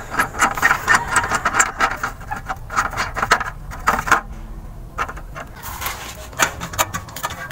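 Bolts come off the catalytic converter cover of a Suzuki Every Wagon turbo, giving close metallic clicks, ratcheting and clinking parts in irregular bursts with short pauses between.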